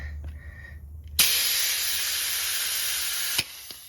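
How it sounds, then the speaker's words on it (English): A vacuum brake bleeder sucking brake fluid out of a car's brake line, starting abruptly as a loud, steady close-up hiss that holds for about two seconds and then cuts off, after a quiet low hum. "and it just sucks the brake fluid out of the line."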